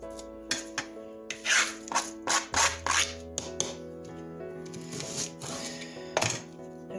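A knife cuts food in half on a board, giving a few close, sharp thunks and scraping strokes mixed with light handling sounds, with no talking.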